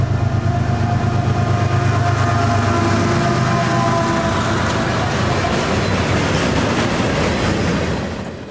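CSX M369 freight manifest train on the Pittsburgh Line, a loud continuous rumble and rhythmic clatter of wagons passing close by, fading slightly at the end.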